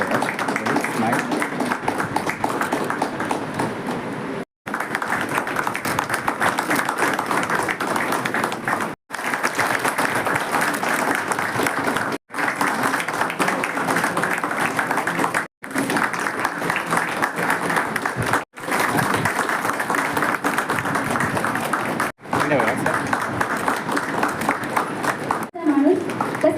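Loud, sustained applause from a gathered office crowd at a Dr. Babasaheb Ambedkar 135th birth anniversary celebration in a land records office, coming in long bursts broken by brief silent gaps.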